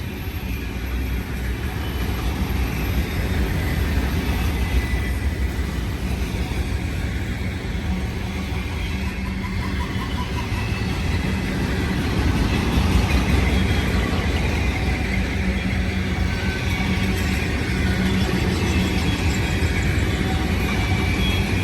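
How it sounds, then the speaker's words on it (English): Union Pacific manifest and BNSF autorack freight trains pass at the Mills near Blue Cut. A long, steady rail rumble and wheel clatter hold throughout and grow somewhat louder partway through. "Beautiful, couple beautiful trains."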